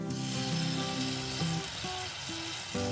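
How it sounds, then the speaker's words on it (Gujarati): Ginger-chili paste sizzling in hot oil in a kadai, a steady, faint frying hiss heard under soft tonal background music. "તેલ થોડું ગરમ થાય એટલે તેમાં આદુ મરચાંની પેસ્ટ નાખીશું"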